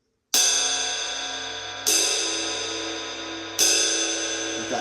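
A 22-inch Paiste Masters Dark Crisp ride cymbal is struck three times at even intervals, each hit a bright clear attack with a long shimmering wash that slowly decays into the next.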